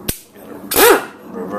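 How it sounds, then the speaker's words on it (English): A part on a lawn mower engine being hammered into its seat: two sharp, close metallic taps about half a second apart, the second ringing briefly, in an otherwise quiet workspace. "that down a few taps until it seats. You can hear it seat."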